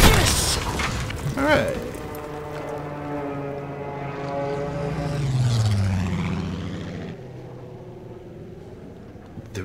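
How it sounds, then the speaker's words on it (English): A deep boom from an explosion in the Battlefield V campaign rolls out and fades into a low, swelling rumble with a descending whine, loud and sustained for several seconds. "There's the explosion."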